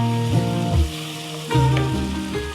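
Cumin paste frying and being stirred in a pan gives a strong, continuous sizzle, with stirring scrapes that surge and ease.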